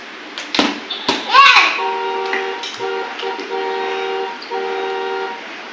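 A small car horn honks in several short and longer toots, clear and close, after a few sharp clicks and a voice at the start.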